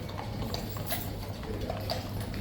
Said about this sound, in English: One of the horses really got spooked and dashed across the parade ground, taking about 4 or 5 others with him.